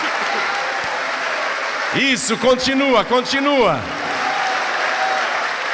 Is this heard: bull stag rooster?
no